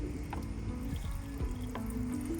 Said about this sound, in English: it sounds like that was from the water heater. I can kind of hear it bubbling.